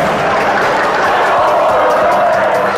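A basketball arena crowd roars in a dense, steady wash of voices and cheering as players brawl, loud and continuous throughout with no single voice standing out.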